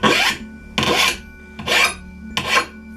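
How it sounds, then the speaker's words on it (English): A metal file deburrs the cut ends of tubing for a camera slide in four loud, bright rasping strokes spaced evenly apart, heard up close with no speech. "file off the burrs on the outside and on the inside"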